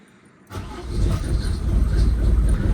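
A diesel Mercedes car engine cranks and fires after a brief quiet moment, settling into a loud, steady, rumbling idle close by.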